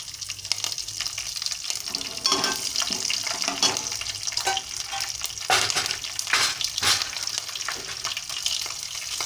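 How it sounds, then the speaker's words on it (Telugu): Chopped green chillies fry in a pan for fried rice. A close, crackling sizzle is punctuated by bursts of spatters and stirring scrapes, with no voices. "పచ్చిమిరపకాయ కట్ చేసుకొని ముక్కలు వేస్తున్నానండి."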